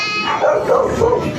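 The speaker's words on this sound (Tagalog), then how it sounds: "Pero madami aso doon." Several dogs bark and yip close by on a New Year's Eve night outdoors, a steady cluster of short overlapping barks filling the whole moment.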